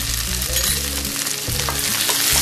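Onions sizzle and fry with ginger garlic paste for beef varattiyathu, a steady, close, loud hiss broken by stirring scrapes, with no talking.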